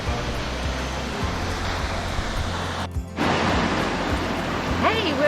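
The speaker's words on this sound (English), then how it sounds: "we're at Queen Mary Falls and it's very noisy" Queen Mary Falls waterfall gives off a loud, steady roar of rushing water, a broad unbroken wash that dominates the scene. A voice briefly cuts through near the end.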